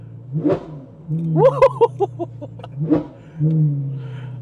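A Ferrari 812 Superfast V12 is blipped in neutral, several sharp revs that rise fast and fall back to a low idle, loud and close, with a brief clatter between bursts.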